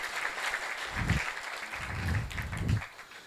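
An audience at the Eswatini Urban Forum 2024 claps, a soft, somewhat distant patter of applause that swells slightly and then fades out.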